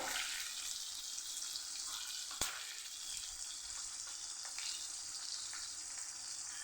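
Green chillies fry in hot oil in a pan for a Kathiyawadi chilli sambharo, a steady close sizzle with a sharp spoon click partway through and faint scraping as they are stirred.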